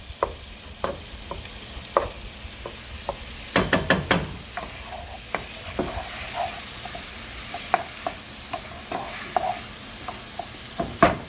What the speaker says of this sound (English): Stir it up real well.